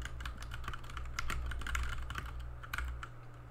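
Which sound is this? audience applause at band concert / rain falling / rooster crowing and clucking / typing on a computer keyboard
typing on a computer keyboard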